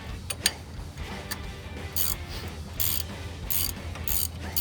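Wrench ratcheting while a brake caliper is removed from a 2017 Chevrolet Silverado during a Wilwood big brake kit install, with rapid mechanical clicks in bursts against a noisy workshop background.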